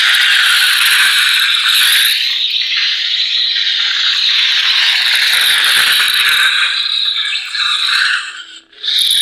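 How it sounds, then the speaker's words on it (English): A Neopixel lightsaber running ProffieBoard sound, set to the Sidious "Shroud of the Dark Side" font, sustains a loud, crackling, buzzing blade-lockup effect for about eight seconds before it fades. "Blade lockup is holding it down and hitting the saber."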